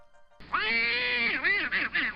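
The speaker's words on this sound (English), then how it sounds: "did you guys hear that duck? I think there's a duck in here." A loud, nasal, drawn-out quacking call of a duck, close by and heard alone, sliding into a few shorter wavering honks toward the end.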